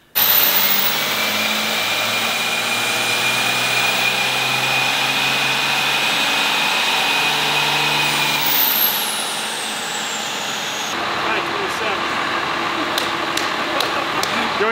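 A 500 HP 12-valve Cummins diesel engine runs hard on a dyno, a loud, steady roar for most of the stretch before the load drops and it settles into a lower idle-like drone.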